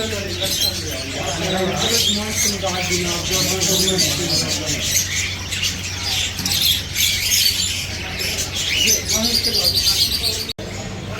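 Parrots and other caged birds at a bird market in Sharjah, UAE, squawk and chirp continuously in a dense, loud chorus, with a steady hum and people talking underneath.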